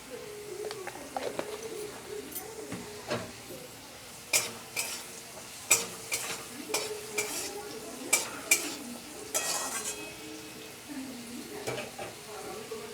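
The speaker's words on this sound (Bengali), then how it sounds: "আলুটা হালকা ভাজা হয়ে গেছে। এবার এর মধ্যে আমি পরিমাণ মতো হলুদ গুঁড়ো দিয়ে দিলাম।" Potatoes fry with turmeric powder in a pan, a low sizzle punctuated by repeated spatula scrapes and clanks as they are stirred, close-up, with birds cooing faintly in the background.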